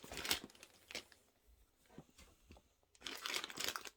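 Packaging for a Samsung Galaxy S22 Ultra phone is torn open by hand in two bursts of crinkly ripping separated by quieter rustles and small clicks, close by with no talking.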